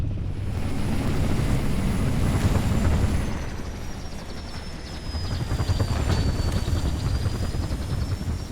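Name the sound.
Falcon aircraft arriving for pickup, from video game Halo Reach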